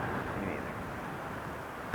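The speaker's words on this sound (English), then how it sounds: "If it wasn't so windy" Strong wind buffets the microphone on an open hillside during a New Mexico elk hunt, a steady broadband roar with no words spoken, ending in a brief louder gust or bump.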